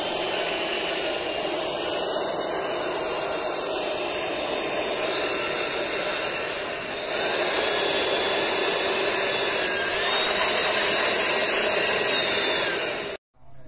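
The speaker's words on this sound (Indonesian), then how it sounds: "Kita coba blow. Ini saya set di speed speed 1 dulu" A Makita 18-volt cordless blower set to speed 1 blasts air over a wooden surface with a loud, steady rushing whoosh close by, holding constant for about thirteen seconds before cutting off abruptly at the end.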